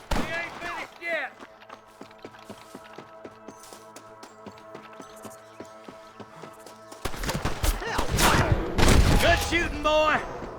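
Gunfire crackles in Red Dead Redemption 2 as repeated sharp shots ring out in a rapid, irregular volley, thinning midway and then swelling into a dense, loud fusillade, with voices shouting among the shots.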